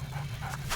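A dog in the CHKN video game pants in quick, steady breaths, close and clear over a low hum, with no talking.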